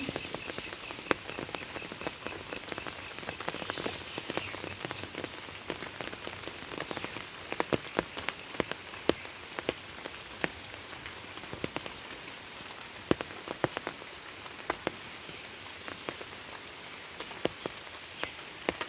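Monsoon rain falls steadily in a garden, a dense constant hiss scattered with sharp nearby drips and patters on surfaces, continuing unbroken for the whole stretch.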